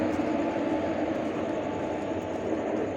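A train engine rumbles at Bonpas railway station, a steady broadband roar with a faint constant tone running through it, close and unbroken.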